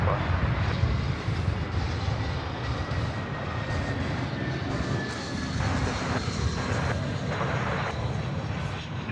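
A jet airliner roars down the runway at Sydney Airport on takeoff, a steady loud engine rumble lasting throughout, with faint voices beneath.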